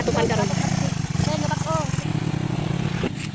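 A motorcycle loaded with corrugated roofing sheets runs with a steady, close engine putter throughout, while people talk over it.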